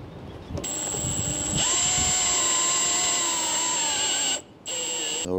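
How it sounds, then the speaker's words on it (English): A power drill with a step bit bores out a hole in a Jeep Wrangler JL panel, a high steady whine rising as the motor spins up, briefly dipping before resuming, close and loud. "I have my step bit, and I'm gonna try and drill that"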